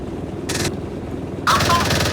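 A Marder A1 infantry vehicle's machine gun fires two short, loud rattling bursts in the Gunner HEAT PC game, with a low engine rumble running underneath.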